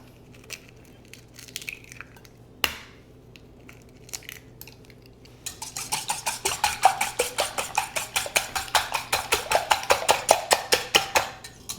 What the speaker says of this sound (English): in a smaller bowl, first you just want to beat 4 eggs